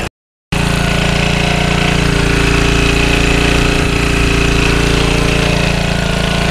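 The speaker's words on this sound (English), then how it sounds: "Now she's running." After a brief silence, a small portable generator runs loudly and steadily nearby on a cold day with an even mechanical drone and rattle.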